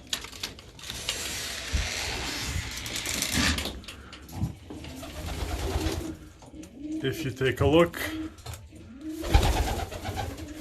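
Racing pigeons coo and flutter in their loft after returning from a long toss, soft throaty calls mixed with rustling and wing noise close by while someone speaks over them.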